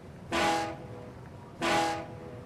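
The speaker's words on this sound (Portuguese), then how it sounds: "A buzina dele é icônica, ó." Two loud, blaring truck horn blasts in the video game SnowRunner, each lasting under half a second, separated by about a second of quiet engine hum.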